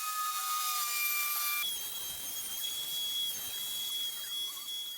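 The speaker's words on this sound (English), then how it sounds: "then I can go over to the chop saw and roughly cut that out" A chop saw cuts plywood in shallow passes of about an eighth of an inch, a loud steady rasping cut that follows a brief high motor whine at the start.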